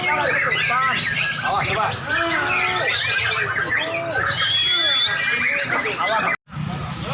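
Lovebirds and murai batu birds call at a bird contest, a dense, loud mix of chirps, squawks and whistles over crowd noise, with people talking close by.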